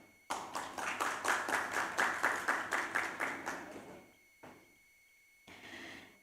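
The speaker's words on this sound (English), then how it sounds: "Let's give another applause for Mr. Oni." Applause at an international hospitality conference: about a dozen rhythmic, evenly spaced group claps for nearly four seconds, fading into silence, then a brief clap and a short final burst.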